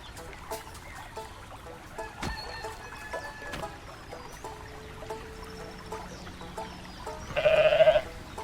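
A goat in Goat Simulator 3 lets out a short, loud bleat near the end, over a busy bed of layered game sounds and music.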